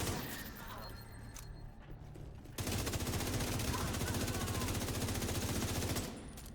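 Rapid submachine-gun fire from a boss enemy in a shooter video game, a dense continuous burst of shots that kicks in partway through and rattles on steadily before easing off near the end.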